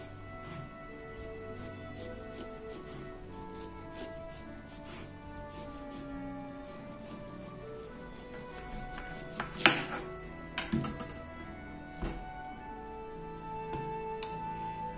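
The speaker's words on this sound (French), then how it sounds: "Je vais commencer par le melon. Donc, je vais découper un chapeau." A knife cuts the top off a whole melon at a table, giving quiet rubbing and scraping strokes over a faint steady background, with a few sharper crunches near the end.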